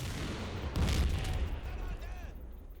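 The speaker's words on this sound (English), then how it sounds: "Grenades and small arms prove ineffective" Gunfire and explosions from small arms and grenades in a WWII Normandy combat video game, a dense rumbling battle din with a heavier burst of blasts near the middle, loud and continuous throughout.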